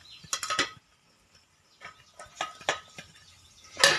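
Okra going into a pan as it is sautéed for vendakkai poriyal, heard as scattered close clatters and scrapes of a utensil against cookware in short bursts with quiet gaps between.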